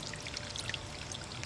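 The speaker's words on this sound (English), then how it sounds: "drain plug open so water can escape" Water gushes steadily out of an inground pool through an open drain plug, a continuous close bubbling rush with small splashy gurgles throughout and no voices.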